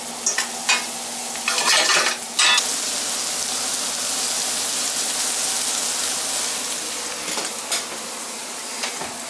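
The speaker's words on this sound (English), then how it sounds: "I might pan fry it right here." A T-bone steak pan-frying gives a steady, loud sizzle throughout, with a few brief clattering stirs or scrapes near the start.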